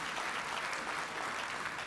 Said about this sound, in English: Let's give Louisiana a round of applause.